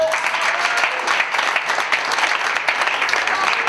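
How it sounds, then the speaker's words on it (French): An audience at an interactive theatre forum breaks into steady applause, a dense clapping crowd that continues evenly throughout. "On peut applaudir Carl."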